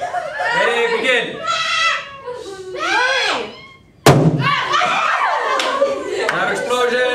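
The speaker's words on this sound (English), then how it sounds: "Loud explosion." A hydrogen peroxide explosion goes off as one sudden, loud, sharp bang partway through, between stretches of people talking and laughing close by.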